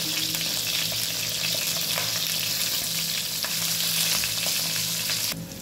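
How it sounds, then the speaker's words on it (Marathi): Stuffed capsicums (bell peppers) cooking in a pan that is covered now and then give off a steady, close sizzle of frying. The crackle goes on without a break, and a brief clatter at the end suggests the lid is lifted. "अशा पद्धतीने सर्व बाजूने मिरच्या भाजून घ्यायच्या आहेत"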